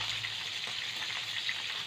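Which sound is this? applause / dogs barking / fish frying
fish frying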